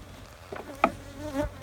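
Bees buzz faintly in short bursts during a hive inspection, with a low hum rising briefly near the microphone, and no voices.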